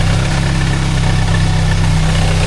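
A Saab 900 8-valve engine runs at a steady fast idle during ignition timing, a loud, even, rumbling drone held close with no voices.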